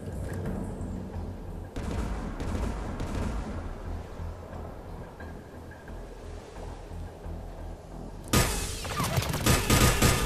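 Sustained gunfire in the video game Mass Effect 3 forms a dense, steady rattle of shots throughout, with a louder, harsher burst of fire breaking out near the end.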